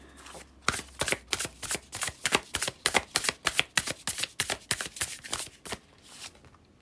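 Tarot cards being shuffled for a reading, about eighteen crisp riffling bursts in a quick, even rhythm, close and clear with no talking.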